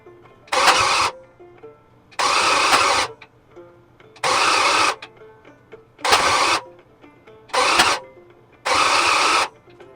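A 350 Chevy small block V8 is cranked over by its starter in six separate loud bursts of about a second each, with short quiet pauses between, and never catches.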